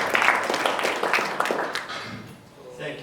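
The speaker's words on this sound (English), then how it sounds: "A round of applause for him." An audience at a media summit session applauds the executive director of a free-expression campaign group, a burst of clapping that starts fairly strong, then thins and fades out, with a voice coming in near the end.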